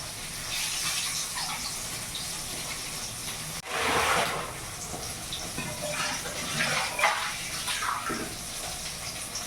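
Spinach stalks are washed under a running tap, a continuous splashing gush of water with handling noises and brief surges midway, steady and close.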